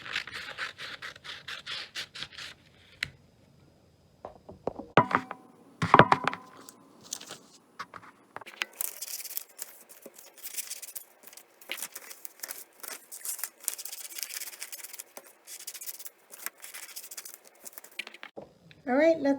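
Scissors snip through material in a children's number craft: a scattered run of crisp, dry cutting clicks and rustles, close and moderately loud, following a quieter stretch of handling sounds.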